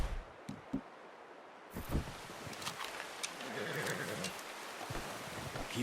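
A horse in Red Dead Redemption 2 snorts and whinnies with a few hoof clops, amid a soft rustling outdoor ambience; the sounds are moderately close and come in short bursts.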